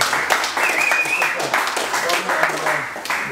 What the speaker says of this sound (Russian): Хлопайте, по-моему, хорошо.